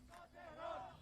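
Street protest crowd in Iran's capital, a faint, distant mass of raised voices chanting and shouting together in one brief swell.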